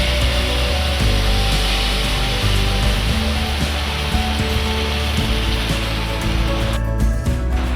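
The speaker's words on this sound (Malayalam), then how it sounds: "ഇവിടെ നല്ല മഴയാണിപ്പോൾ." Heavy rain falls outdoors beyond a home kitchen, a steady, dense hiss that stays loud and unbroken throughout, with no voices.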